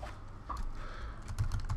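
Typing on a computer keyboard while modeling in CAD software: a quick run of soft, close key clicks at an even, steady pace, with no talking.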